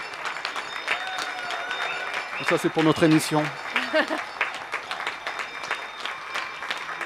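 At 8 pm, people applaud healthcare workers from nearby windows and balconies, scattered clapping carrying on throughout while a voice speaks in the foreground.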